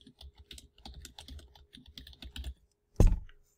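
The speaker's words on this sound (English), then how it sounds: "Let's type Magic of the Gathering." Computer keyboard keys tapped in quick irregular bursts for about two and a half seconds, fairly close and clear, followed by a brief pause and one louder thump at the end; no talking.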